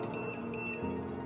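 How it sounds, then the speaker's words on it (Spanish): Electronic equipment sounds its audible alarm because the battery breaker is not energized, giving two short high-pitched beeps close by over a low steady hum. "el equipo empezará a alarmar porque nos hace falta energizar lo que es el breaker de baterías"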